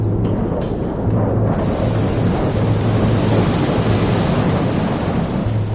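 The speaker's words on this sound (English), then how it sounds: "Approaching land, a hurricane's wind drives water toward the shore, wave after wave, hammering coastline structures and flooding city streets." Hurricane Sandy's storm surge drives waves onto the shore near New York, a continuous loud roar of crashing surf mixed with howling wind and rain-like hiss, dense and unbroken.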